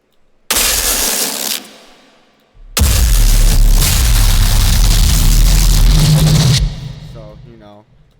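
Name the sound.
bass layer of a remix played back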